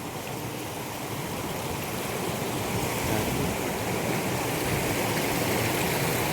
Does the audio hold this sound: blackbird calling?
no